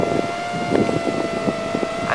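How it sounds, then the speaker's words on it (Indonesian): Strong wind buffets the microphone during a drone flight, giving steady heavy rushing noise with gusty low thumps, while a thin high motor whine from the quadcopter holds underneath. "Anginnya gede, lawan angin ke sana."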